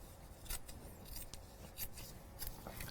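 Scissors snip through craft material at close range, several short crisp cuts spaced unevenly across a quiet background, with no talking.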